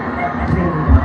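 A boxing arena crowd cheers and roars in a loud, dense wash of voices that swells toward the end, with a commentator talking over it.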